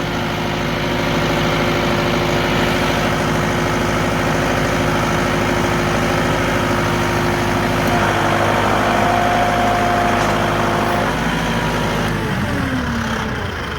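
A Massey Ferguson 2705e tractor engine idles steadily with a deep, even diesel rumble while a large log is moved onto a sawmill. The engine note shifts slightly near the end.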